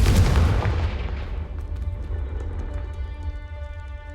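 A fiery Confringo blast spell explodes in the Hogwarts Legacy video game: a loud, close boom at the start that fades into a long rumbling tail with faint ringing tones, with no voices.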